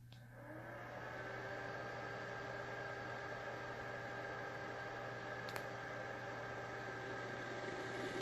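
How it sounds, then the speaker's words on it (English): An electric kettle plugged into a Magnum Energy MMS-1012G inverter hums and hisses steadily while overloading, a constant tonal buzz with broadband noise that starts after a brief click and continues unbroken throughout. "Okay, the kettle is making noise, you can hear it."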